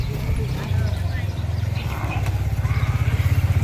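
A tall motorbike's engine thumps close by in a steady low, pulsing rhythm that grows more pronounced toward the end, with people talking over it.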